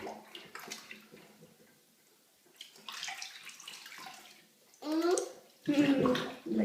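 Water splashes and bubbles in a bathtub in short bursts, with soft pouring between louder gurgling splashes near the end, while a child and an adult talk quietly at intervals.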